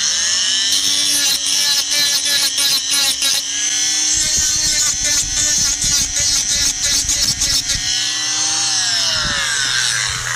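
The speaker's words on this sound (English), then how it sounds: "I'll just go around them a bit more with the Dremel" A Dremel rotary tool grinds metal parts for moulding boxes, a loud, high-pitched whine that dips and chatters in rapid bursts as it bites into the workpiece, running nearly continuously close by.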